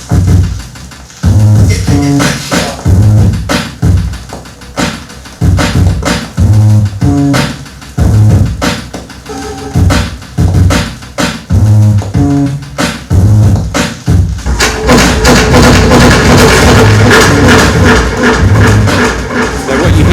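Rhythmic instrumental music plays loudly, first dry and punchy, then with echoing repeats smearing the notes together in the final stretch.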